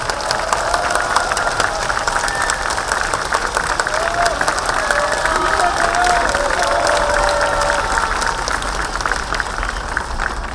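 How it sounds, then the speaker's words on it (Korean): A rally crowd claps for representatives of bereaved families, sustained applause with some cheering at moderate distance, voices mixed faintly through it. "이 두 대표를 위해서 힘찬 박수 한번 부탁드리겠습니다"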